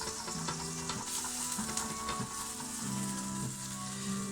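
A mixture is whisked in a kitchen where breaded chicken thighs are deep frying, and steady quick whisk strokes sound over a constant sizzle and fryer hiss, with a faint rhythmic hum; close, continuous, no talk.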